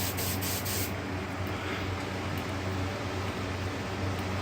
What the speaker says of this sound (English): grab my smoke spray and we'll spray one of these smokes